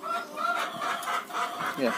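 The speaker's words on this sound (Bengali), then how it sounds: "আর সামনে হচ্ছে মুরগি রয়েছে, মুরগি" Hens clucking in short, overlapping bursts close by, with a busy farmyard murmur underneath.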